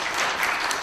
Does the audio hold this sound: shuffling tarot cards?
no